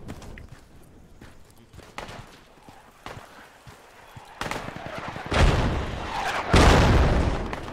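Mortar explosions in the military shooter game Project Reality, starting as faint scattered thumps and growing into loud, heavy booms with broad rumbling blasts toward the end.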